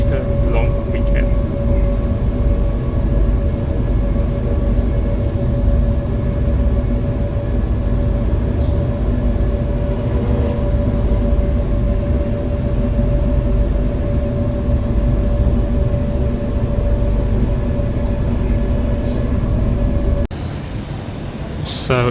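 A Sydney train running from Central to the domestic airport gives a continuous loud rumble and steady hum, with an abrupt drop in level near the end.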